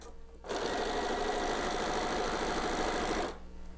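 A sewing machine stitches hexagon quilt units in one steady, loud, fast-running burst of about three seconds, starting and stopping abruptly, with quiet room tone on either side.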